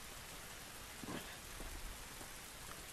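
Rain falls steadily in The Last of Us Remastered, a quiet, even hiss of drops hitting surfaces with a few slightly louder patters and no voices.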